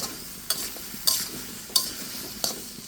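A spoon stirs snake gourd with turmeric, chili, coriander and cumin powder in a pan, producing four sharp scraping strokes at a steady pace over a soft background sizzle.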